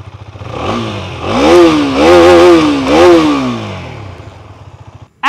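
A Husqvarna Vitpilen 250 motorcycle engine idles with a throaty putter, then revs up sharply three times in quick succession before settling back down, loud and close.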